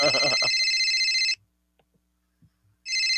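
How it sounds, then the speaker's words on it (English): A telephone bell rings loudly in a live stream setting, one long burst of ringing, a pause of silence, then the ring starting again near the end. "Phone's ringing."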